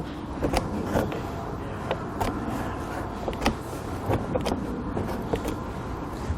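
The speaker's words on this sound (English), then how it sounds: "I'm just going to use some tin snips." Tin snips cut a plastic underbody panel on a 2014 Honda CR-V during a hidden trailer hitch installation, giving repeated sharp snipping clicks at an uneven pace over a steady background hum with no speech.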